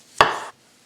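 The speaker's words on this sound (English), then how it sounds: "we're gonna start off with just chopping off the ends." A knife slices through an English cucumber on a cutting board to take off an end for a Greek salad, one crisp close chop followed by a short scraping tail, then quiet.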